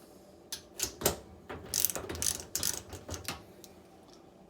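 A 5/16 ratchet clicks in short, close bursts while turning fasteners on a Whirlpool/Kenmore series 90 washing machine water valve, with uneven pauses between strokes.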